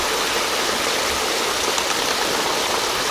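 Water gushes steadily out of PVC pipes over rocks at a gold-prospecting sluice, a loud, constant close-up rushing wash with no pauses and no talking.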